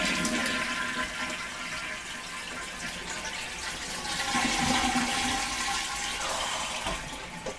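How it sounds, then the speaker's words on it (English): A toilet flushes loudly and close, with a continuous rush of water refilling through a sink attachment mounted on the tank lid, the hissing flow steady for several seconds with no talking. "Clean water comes through, and you wash your hands, and it goes into the bowl. So you flush with the gray water."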